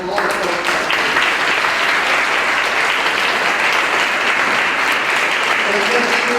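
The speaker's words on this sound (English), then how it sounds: "I'd like to give a big round of applause and thank you to all the folks" An audience at the SCAE 2016 graduation ceremony gives a big round of applause to the folks being thanked, with sustained, even clapping and a bit of crowd murmur that carries through to the end.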